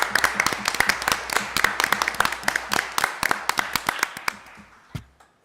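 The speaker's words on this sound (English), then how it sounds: "Can we give her a round of applause?" A small group at a disability advisory board meeting claps in scattered, distinct hand claps that thin out and stop after about four and a half seconds, with a final lone clap.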